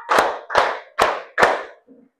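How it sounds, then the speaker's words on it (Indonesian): A classroom group claps in a counted rhythm: four sharp, loud, evenly spaced claps about half a second apart, then a faint fifth sound trailing off, with no talking. "Tepuk 1, tepuk 2, tepuk 3,"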